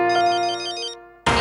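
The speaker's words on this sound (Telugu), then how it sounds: "ఈ ఫోన్ ఇప్పుడే రావాలా?" Phone ringtone from a Telugu TV serial, a short, loud electronic melodic tone lasting about a second, then cut off by an abrupt burst of noise.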